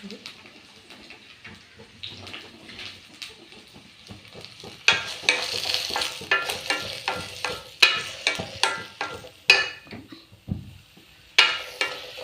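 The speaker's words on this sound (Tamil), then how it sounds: "நறுக்கி வச்ச பாவக்காயை போட்டு நல்லா வந்து வதக்கிக்கிறலாம்" Bitter gourd pieces sautéing in hot oil in a pan, a steady sizzle with repeated scraping stir strokes that grow louder and more rhythmic in the second half.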